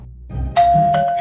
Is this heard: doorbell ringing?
yes